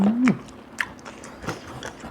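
Crunchy grilled pork ear being bitten and chewed up close, a few crisp crunches and soft mastication sounds in a quiet, brief stretch with a low murmur at the start.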